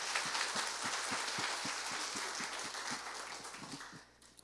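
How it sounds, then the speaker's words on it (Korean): A church congregation gives the choir a soft, even round of applause that sounds somewhat distant and fades out toward the end. "귀한 찬양 올려주시기 우리 새롭힘 찬양대 한 번 더 박수를 격려하겠습니다"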